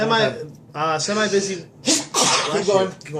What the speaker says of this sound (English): I'm gonna sneeze a lot.